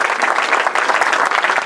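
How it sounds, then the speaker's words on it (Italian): Brief burst of audience applause at a book presentation in Ostia, dense steady clapping from a crowd, loud and continuous with no voices standing out. "l'applauso veramente è a loro"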